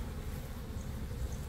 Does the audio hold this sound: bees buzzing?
yes